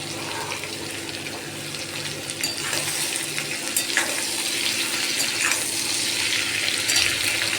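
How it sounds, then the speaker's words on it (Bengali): Potatoes, carrots, eggplant, drumsticks and beans frying together in a pan, giving a continuous close sizzle with stirring scrapes and some watery splashing. "বেগুন ডাঁটা শিম একসাথে সব দিয়ে ভাজবো।"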